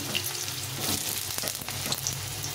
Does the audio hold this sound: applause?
no